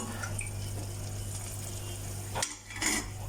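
Steady low sizzling and bubbling of flour and sugar frying in ghee and oil in a pan for Mysore pak, with a brief clatter of stirring near the end; no talking.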